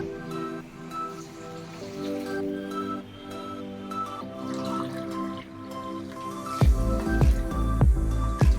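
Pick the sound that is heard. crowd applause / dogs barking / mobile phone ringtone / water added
water added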